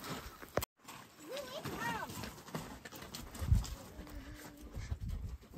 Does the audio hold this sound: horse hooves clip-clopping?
yes